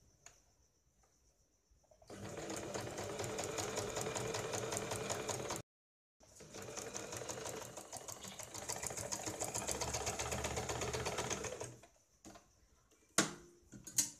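A sewing machine stitches a patch onto layered blouse fabric with canvas on top, running in two steady bursts of rapid mechanical stitching separated by a short pause, then a few faint clicks and handling noises at the end.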